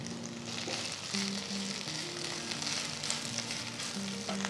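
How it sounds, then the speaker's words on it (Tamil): Fresh mint leaves frying in sesame oil give a steady crackling sizzle close up, with a few faint tonal clinks mixed in and no talking. "கடாயில் 1 டீஸ்பூன் நல்லெண்ணெய் ஊற்றுங்க. இதில் 1 போல் ஃப்ரெஷ்ஷான புதினா போடுங்க."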